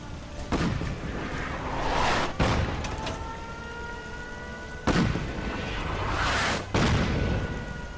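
Gunfire and explosions from the video game Fallout 4, with loud percussive booms at about half a second, two and a half, five and near seven seconds over a continuous rumble of battle noise.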